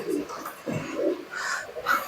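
Jack pigeons, young birds among them, give soft low coos in several short phrases, close by and moderately loud, with faint chatter mixed in.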